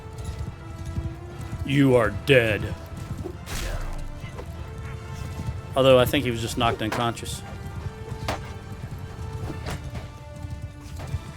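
Cavalry horses gallop through a Mount & Blade II Bannerlord battle, a continuous muffled drumming of hooves with thuds and crashes of combat, while someone talks over it in bursts.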